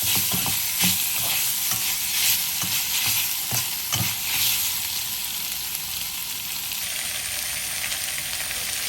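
Pork stir-fried in a wok with red spur chilies and holy basil leaves, a steady close sizzle with repeated scraping stirs through the first half, settling into a continuous fry with no talk.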